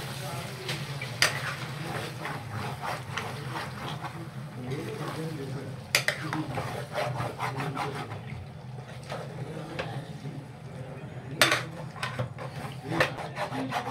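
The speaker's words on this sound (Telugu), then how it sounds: "లివర్ని మనం మొత్తం కలపాలి." Chicken liver fry is stirred in a pan, with a steady scraping and rubbing of a spatula and a soft sizzle underneath, plus occasional sharper knocks against the pan.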